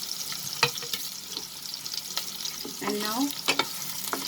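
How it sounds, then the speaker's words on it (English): Onions and dried red chilies sizzle steadily in a pan over a medium flame with sharp spatula clicks and stirring scrapes, while a voice says a couple of words. "just saute it for a minute over medium flame"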